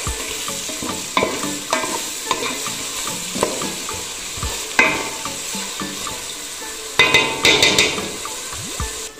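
A sardine pilaou mixture being stirred in a pan over medium heat, with a constant sizzle broken by repeated spoon scrapes and knocks against the pan. The scrapes come in irregular bursts and cluster more densely near the end, heard close up without speech.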